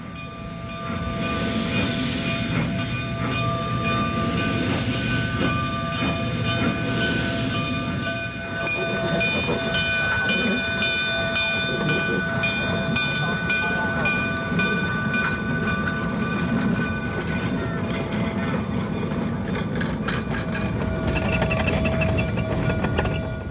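A train pulls out of the station at Antonito, Colorado on the Cumbres line, a loud continuous rumble with steady tonal whistle or horn notes layered over rolling wheel noise throughout.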